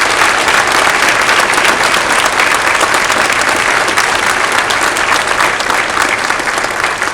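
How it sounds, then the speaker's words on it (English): Loud sustained applause from a school board meeting audience honoring a retiring teacher, a thick unbroken roar of many hands clapping close by for several seconds. "Thank you for the applause."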